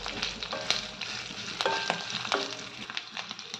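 Curry leaves spit in hot oil with fenugreek, mustard, cumin, coriander seeds, garlic and dried chillies while a radish sambar tempering is made. A close, crackling sizzle with sharp pops and spoon clinks.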